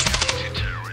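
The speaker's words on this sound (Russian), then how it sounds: "я выстрелила" Rapid gunfire in the mobile shooter Standoff 2, a quick burst of four or five loud shots in the first third of a second, followed by game sounds and a rising-and-falling tone.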